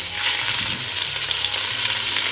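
Marinated pork sears in hot oil in a heavy lidded pot, a loud, steady close sizzle and crackle with faint low clatter underneath and no talking.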